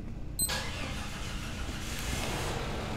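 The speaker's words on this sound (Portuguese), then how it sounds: "Agora o carro anda sozinho, ó." A car engine starts with a sudden burst and then settles into a steady idle and hum, close and continuous, as the car is tested for automatic parking.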